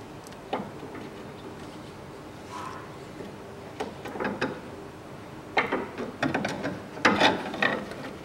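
A ratchet wrench unscrews the steering knuckle on a Land Rover Discovery 3 during a front upper ball joint replacement, making scattered quick clicking runs, close and moderately loud, with pauses between bursts and no talk.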